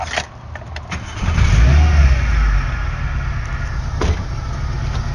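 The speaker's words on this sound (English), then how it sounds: "it's making a weird popping noise when the engine's winding down after I rev it" Car engine revving then settling, a loud low rumble swelling and holding with a few sharp pops and knocks as it winds down, the car shaking on a suspected misfire; no talk.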